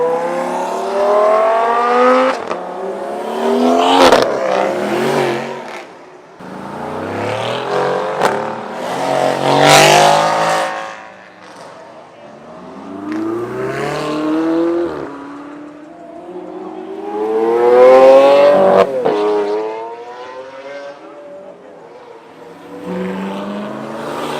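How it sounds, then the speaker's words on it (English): Supercars on a street supercar run accelerate hard past a roadside spot one after another, with engines roaring up through rising revs in several loud surges and short lulls between each car. "so I can catch the cars as they're accelerating"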